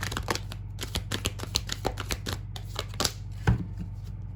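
A deck of encouraging cards is shuffled by hand, giving a quick run of close, crisp riffling clicks in an uneven rhythm over a low steady hum.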